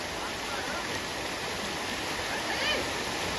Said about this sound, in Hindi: वो देखो झरना कितना सुंदर है